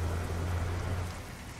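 Steady rain in Euro Truck Simulator 2, a dense, even hiss of drops on the truck with a low rumble underneath, constant and unbroken with no voices.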